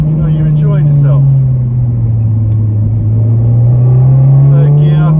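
A modified Honda EP3 Civic Type R with a 270bhp 2.4-litre K24 engine pulls hard under acceleration, a loud, steady droning engine note rising slightly, heard from inside the car.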